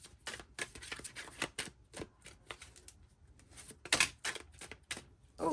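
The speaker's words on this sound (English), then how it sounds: "I shuffled for at least 2 minutes." Tarot cards shuffled by hand at close range, a quick run of crisp riffling and slapping bursts with short pauses between, alone without talk.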